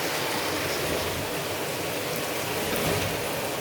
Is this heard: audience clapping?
no